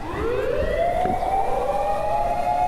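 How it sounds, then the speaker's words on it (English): A wailing fire truck siren rises steadily in pitch over low traffic rumble, loud and continuous as it passes nearby. "You can probably guess from the noise, the fire truck going by."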